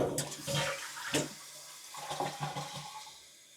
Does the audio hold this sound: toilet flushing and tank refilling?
yes